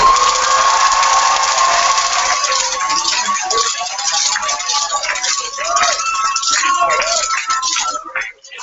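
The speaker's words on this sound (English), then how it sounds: "let's give them a big round of applause" A large audience applauds the 2014 Great Debaters at a Texas Great Debate Sweet 16 ceremony, with sustained, dense clapping and some cheering that holds steady for several seconds before tapering off.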